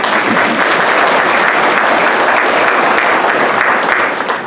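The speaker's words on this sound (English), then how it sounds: "Give yourselves a round of applause." Audience applause at a Woodmen Life awards banquet, loud and sustained, with many hands clapping densely and evenly close by before tapering slightly at the end.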